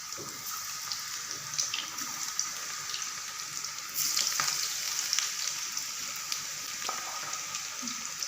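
Chicken legs and chips deep frying together in hot oil at home, a continuous bright crackling sizzle that swells briefly midway, close and steady, with no voices.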